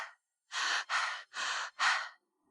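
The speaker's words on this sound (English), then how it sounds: "so I breathe faster." Quick, heavy breathing after physical activity, four strong breaths in a row close to the mic, each a breathy rush, with no talking.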